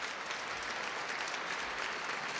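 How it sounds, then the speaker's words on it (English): Steady applause from a crowd, dense clapping that holds at an even level throughout with no voices standing out. "Round of applause."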